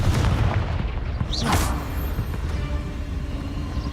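Confringo explosive spell blasts in Hogwarts Legacy, with a sharp fiery burst rising out of a steady rumbling din of combat noise.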